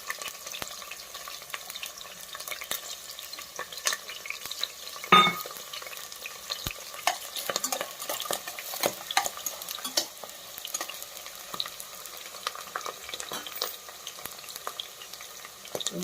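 Onions frying in a pan for a country chicken curry make a soft, fairly quiet sizzle with scattered crackles and stirring taps, one sharper clink near the start, and no voices.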